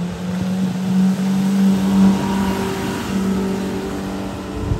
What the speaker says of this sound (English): Wanted to show you how fast this boat gets up on plane.